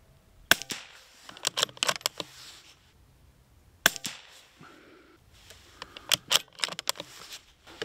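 Several sharp, close reports from a Bergara BMR .22lr rifle firing RWS ammunition, spaced irregularly with metallic bolt clatter and handling noise between shots.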